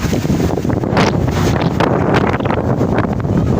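Strong super typhoon wind roars and buffets the microphone continuously, a loud rushing gust with no voices.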